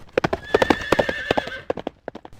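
Horses' hooves clip-clop in quick, uneven beats while a horse gives a long, wavering neigh partway through, all close and fairly loud.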